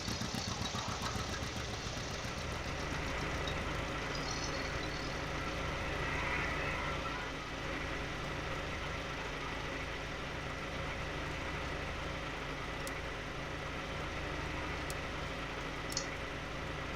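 A tractor engine idling in Farming Simulator 17, a steady mid-pitched diesel chug running continuously and fairly quietly, with a few faint clicks near the end.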